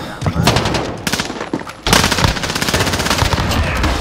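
Rapid-fire AUG rifle in a Search and Destroy video game match: dense bursts of loud automatic gunfire, a short lull, then a longer sustained stream of shots.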